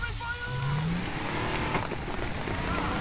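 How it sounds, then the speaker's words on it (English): Car driving in Far Cry 3, a steady engine drone with a rising rev near the start, rumbling continuously under a voice talking over it. "Drive, Jason. Drive."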